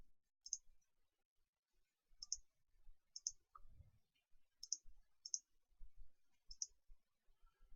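Computer mouse clicks while working through an online questionnaire: six or so crisp, isolated clicks spaced about a second apart, quiet and close, with faint low desk noise between them.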